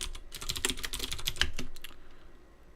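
Rapid typing on a computer keyboard during coding, a dense close run of key clacks that slows and thins out toward the end.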